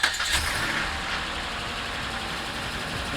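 A Ram 2500 pickup's 6.4L Hemi V8 settles into a steady idle right after starting, with a louder burst at the very start that drops into an even, continuous rumble with no talking.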